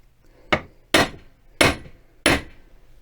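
Four sharp metallic taps, evenly spaced and close, struck on a brake master cylinder part from a 1974 VW Beetle to knock pistons loose, each ringing briefly before fading.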